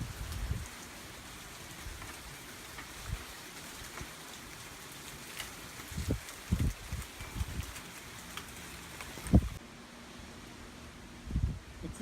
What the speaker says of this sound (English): The winds have picked up. Right now it's just drizzling.